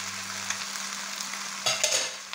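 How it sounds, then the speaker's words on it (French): Garlic and carrots stirred in a frying pan, a steady close sizzle with a few louder scraping bursts of stirring near the end. "Voilà, on remue. On met nos carottes."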